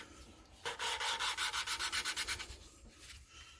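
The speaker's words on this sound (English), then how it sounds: "But you put a little pressure on it, it'll grind a little faster." A new valve is lapped by hand into its seat on a 2009 Honda Fit engine, giving a steady, rhythmic gritty grinding of quick back-and-forth strokes that fades out near the end, close and fairly quiet with no talking.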